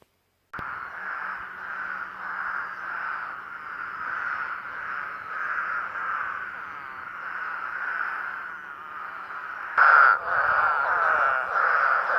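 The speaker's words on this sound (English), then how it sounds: "I'm in a flooded cornfield by the Ohio River in Big Bend, and I'm surrounded by spadefoot toads." Eastern spadefoot toads call from a flooded cornfield beside the Ohio River at Big Bend, a steady, dense chorus of overlapping calls with one louder, closer call rising near the end.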